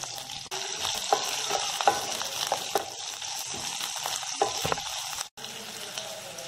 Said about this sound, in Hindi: तो अब हम मिर्ची को हल्का सा भून लेते हैं।